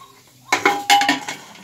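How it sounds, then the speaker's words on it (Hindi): A pressure cooker lid is pushed shut and locked over soybean and black chana dal, giving a few close, sharp metallic clanks and clinks in quick succession, then quiet. "अब हम कुकर बंद कर देते हैं, उसमें 4 सीटी लगवाते हैं"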